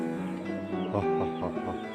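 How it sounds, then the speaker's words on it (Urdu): A rooster clucking outdoors in the sun, a series of short, close, throaty clucks in quick succession over a steady background of other farm birds. "روسٹر"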